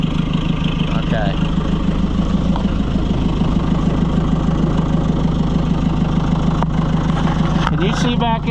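A Snowy White 700 snowmobile engine, its wiring burned up, idling steadily and loudly close by, a constant low throbbing hum running throughout.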